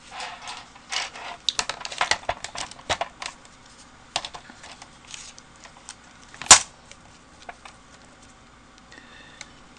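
Cardstock is trimmed for a handmade Stampin' Up! peacock card, giving a series of light, close clicks and short scraping slices, irregular in rhythm, with one sharper snap partway through.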